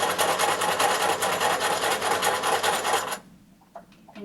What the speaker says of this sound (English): you have to do 2 or 3 stitches backwards and forwards, running all the way down